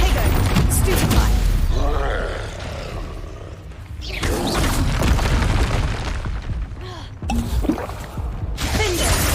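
Bombarda blasting spell cast during combat in the Hogwarts Legacy video game, booming explosions and roaring magic impacts coming in loud bursts, layered with gasps and shouted voices.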